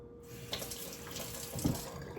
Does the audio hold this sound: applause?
no